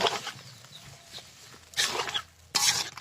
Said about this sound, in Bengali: এখন আমরা কেটে রাখা কাঁচা কলাগুলো দিয়ে নেব, দিয়ে এটা সুন্দর মতো কষায় নেব।